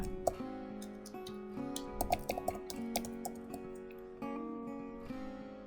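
A username being typed on a computer keyboard, with quick bursts of close, light key clicks, a brief pause, and a final keystroke, heard alone without speech.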